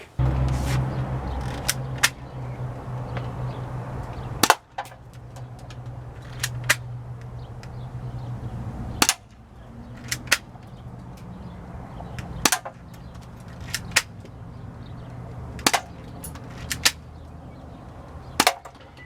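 Airsoft or BB gun plinking outdoors, a series of sharp snapping shots at irregular intervals, some louder than others, over a low steady background hum.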